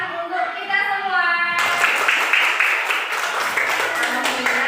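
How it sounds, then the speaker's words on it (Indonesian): A classroom full of students applauding together, a steady dense wash of clapping hands that starts abruptly and holds loud, after a brief stretch of a teacher's voice. "tepuk tangan untuk kita semua"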